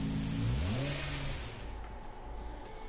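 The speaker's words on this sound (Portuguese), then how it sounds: "Deixa o barulho do carro." A GTR's engine revs in a racing video game, climbing sharply in pitch and then easing back down to a lower, steadier hum. The engine is loud, close and alone, with no talking over it.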